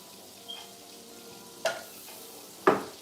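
A tablespoon of butter and onions fry in a pan with a soft, low sizzle, broken by three sharp clacks of a utensil against the pan.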